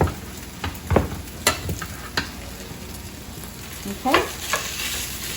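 Rice frying in butter in a pan, sizzling steadily while a spoon scrapes and stirs it in irregular strokes, close and moderately loud, with one brief word spoken.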